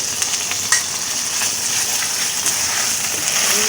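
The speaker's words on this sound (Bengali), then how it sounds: "এবার ভালো করে নেড়ে পোস্ত বাটা, আদা বাটা দিয়ে দিলাম। এবার ভালোভাবে কষিয়ে নেব।" Poppy seed paste and ginger paste sizzling in hot oil while being stirred for a prawn korma, a bright continuous frying hiss with occasional pops and scrapes, close and loud, no talk.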